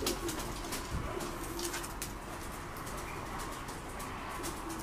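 Breeding pigeons kept for stock coo and stir in their loft, with soft low cooing and faint wing movement under a steady broadband hiss. No voices are heard.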